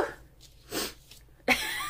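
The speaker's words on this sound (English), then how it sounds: "oh, I got another sneeze" A woman's sneeze bursts out sharply near the end, with a faint breathy intake and a softer nasal sound before it, close and loud in a quiet room.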